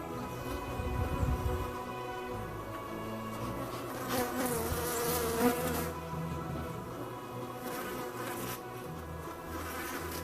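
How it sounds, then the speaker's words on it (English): Honey bees hum around an opened hive during brood frame work, a steady layered buzz close by with a few louder swells as individual bees pass near. "So the bees seem to be quiet down now"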